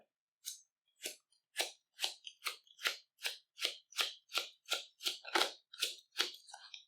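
Cards are shuffled into an Arkham Horror encounter deck with a steady run of about fourteen crisp, papery riffles and snaps, close and quiet, and no talk.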